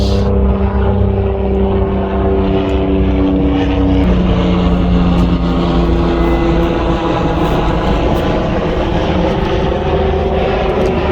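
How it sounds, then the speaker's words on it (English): A helicopter drones loudly and steadily overhead, its engine and rotor noise filling the whole stretch without a break. "here comes a helicopter for our convenience"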